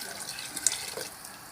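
Hot water poured into a cooking pot while making a meat kabsa at home, a brief, faint trickling splash lasting only a moment, with quiet background.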